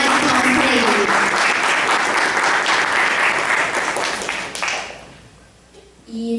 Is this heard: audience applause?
yes